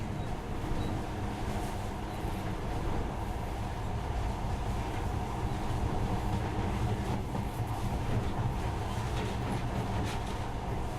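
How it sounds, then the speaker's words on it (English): A monorail train runs steadily in the video game Metro Last Light, a continuous rumbling rail drone with faint rhythmic clatter, moderately loud and unbroken with no talk. "In the past, trains were ordinary things. But now, this monorail seems magic, doesn't it?"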